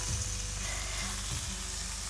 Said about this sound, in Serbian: ovo je trenutak kada ćemo dodati luk koji će se zajedno pržiti sa slaninom